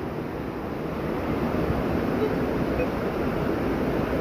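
Loud rushing river water at a riverbank, a steady broadband roar that fills the whole clip and swells slightly after the first second, close and unbroken.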